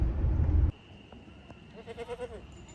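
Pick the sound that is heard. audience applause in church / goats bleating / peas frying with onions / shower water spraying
goats bleating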